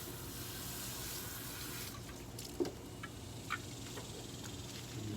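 Running water rinses a pool sand filter part, a quiet, steady splashing stream with a few soft drips and clinks.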